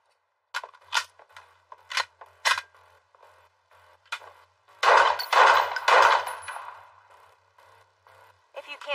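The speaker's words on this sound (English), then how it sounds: "Well, don't just show it off, fire some rounds." A 9mm handgun firing rounds in an animated series: several sharp, distinct shots in an uneven sequence, then a denser cluster of louder bursts, with faint clicks between.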